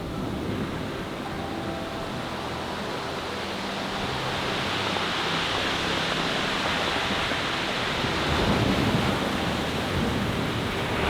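Continuous broadband surf from sea waves on the shore at Bridlington, a steady wash that swells slightly louder toward the end, with no voices present.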